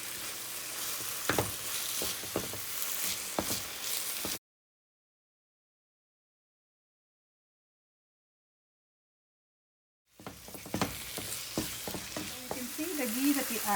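Thick butternut squash halwa is stirred with ghee in a pan, giving a soft frying hiss with a few spoon scrapes, then a long silent gap before the stirring and sizzle come back.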